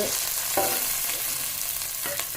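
Sliced shallots frying in hot coconut oil give a steady, close sizzle that runs continuously, with brief stirring scrapes now and then and no talking.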